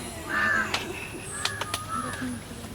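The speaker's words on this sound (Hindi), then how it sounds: "कौआ मैना सब तते घुस जाय है" Harsh crow caws ring out near a guava tree, several calls with sharp clicks and rustles between them, moderately close in an outdoor village setting.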